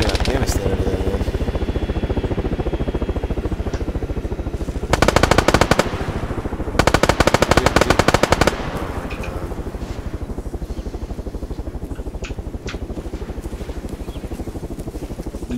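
Sustained automatic gunfire from the video game ArmA 3, loud and rapid, with denser bursts of close fire midway and continuous shooting throughout, people talking over it at times.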